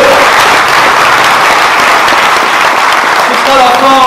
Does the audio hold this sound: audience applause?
yes